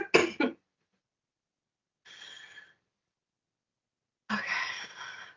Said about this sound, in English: I love coughing live on camera for so many people to see.